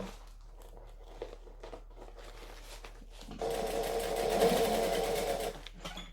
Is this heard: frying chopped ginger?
no